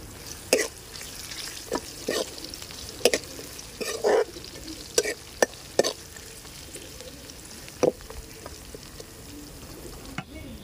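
Two dried red chilies fry in hot oil for tomato rice, giving a soft steady sizzle broken by scattered sharp pops and spatters, close up and with no talking.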